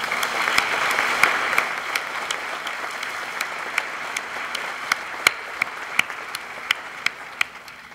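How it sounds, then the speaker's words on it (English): Applause from an audience at a groundbreaking ceremony for a university design center, a dense sustained wash of clapping with sharp individual claps standing out, steady and fairly loud throughout. "Another round of applause."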